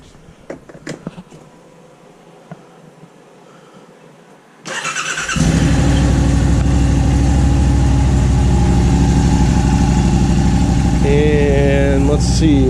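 A 2021 Yamaha RMAX 1000 XT-R side-by-side engine fires up after quiet handling noises, then settles into a loud, steady idle with a deep low rumble held close to the microphone.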